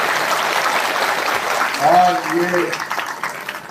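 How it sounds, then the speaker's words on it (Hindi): An audience claps to welcome a guest at an oath-taking ceremony in Jaipur, a dense wash of applause under someone speaking over a microphone before it fades. "खड़े होकर ताली बजा के इनका स्वागत करो"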